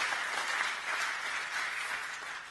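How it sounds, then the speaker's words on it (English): An audience at an investment launch event in Kilkenny gives a round of applause, a dense steady wash of clapping that fades slightly toward the end, with no voices over it. "put our hands together and give a good,"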